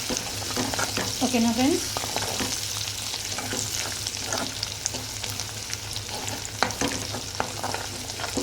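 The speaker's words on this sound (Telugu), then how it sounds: "కొత్తిమీర పుదీనా అనేది ఇలా తాలింపులో అనేది ఫ్రై అయితే మనకి కర్రీకి మంచి టేస్ట్ అనేది వస్తుంది అన్నమాట" Coriander and mint frying in a spiced oil tempering for a curry, a steady close sizzle with stirring scrapes and spoon clinks, a voice speaking briefly over it.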